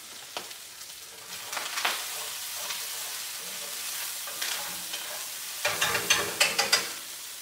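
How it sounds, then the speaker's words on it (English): Corn frying in an oiled pan while being stirred, a steady close sizzle punctuated by scraping stir strokes that cluster into a quick run of clatters near the end. "Let me stir this up."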